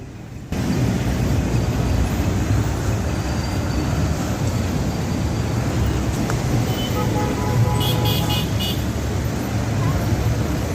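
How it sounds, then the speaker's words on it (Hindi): Busy road traffic in Sundhara, Kathmandu: a continuous loud roar of engines and tyres close by, with a few short horn toots and occasional brake squeals rising above the steady wash. "एहिठाम ट्रैफिक ततेक व्यस्त छै, रोड तते बिजी छै"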